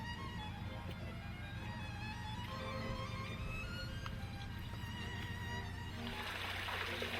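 Water rushing through an opened ground paddle into a canal lock on the Leeds & Liverpool Canal, a steady low churning flow throughout with a brighter splashing surge toward the end.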